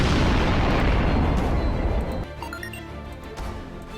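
Heavy ship cannons fire in a sustained loud barrage of booms in the space game Sunrider First Arrival, then cut off abruptly and give way to quieter electronic chimes and tones.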